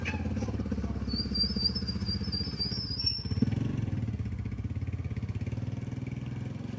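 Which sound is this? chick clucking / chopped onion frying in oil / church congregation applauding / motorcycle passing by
motorcycle passing by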